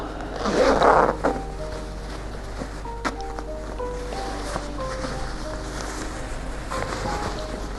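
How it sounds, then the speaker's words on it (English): A fabric dress zipper on a princess-line pinafore being sewn is pulled open in one quick, close rasp, followed by quiet rustling and faint handling clicks. "So we open the zip."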